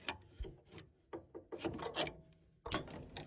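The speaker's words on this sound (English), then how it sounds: "I'm just going to use a screwdriver to pull it out." Screwdriver tip scraping and prying a retaining clip out of the pressure relief valve on a leaking Worcester Bosch boiler, giving close, dry rasping scrapes and small metallic clicks in irregular bursts with no talking.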